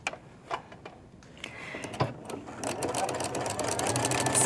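A sewing machine fitted with a walking foot stitches a quarter-inch seam through layered fabric and batting on a tote bag, starting with a few separate clicks, then building into a steady, rapid mechanical whirr.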